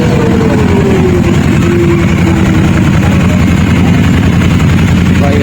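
A motorcycle engine idles at a bike meet with tuned headers and titanium exhaust, a loud, steady low rumble that throbs continuously throughout, close by, with no clear talk over it.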